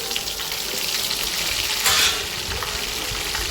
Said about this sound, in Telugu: ఆవాలు జీలకర్ర కరేపాకు బాండి పెట్టేశానండి ఫస్ట్గా మిరపకాయలు వేసాను నెక్స్ట్ ఉల్లిపాయలు